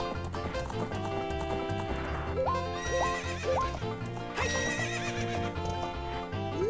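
A horse in the video game Zelda: Ocarina of Time whinnies several times while hooves clip-clop steadily, all set against continuous game music, with no voices.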